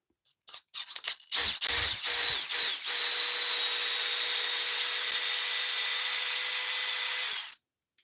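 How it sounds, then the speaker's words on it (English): An electrician's power drill bores through material after several short trigger bursts, then runs as a loud, steady whine for about four and a half seconds while the bit labors, then stops abruptly. "this drill is starting to fight me now"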